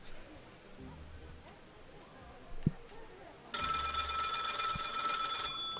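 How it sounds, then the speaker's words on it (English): A telephone in the Lil' Guardsman game rings loudly and steadily in bright repeated trills for about two seconds, breaking into a quiet, murky background. "The phone is ringing."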